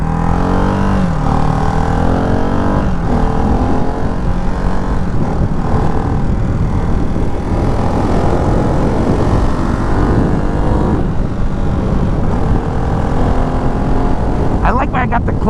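A Ducati Hypermotard 698 Mono RVE single-cylinder motorcycle rides on the road with a loud, steady engine drone, shifting pitch as it revs and changes gear. Wind rush from riding mixes in.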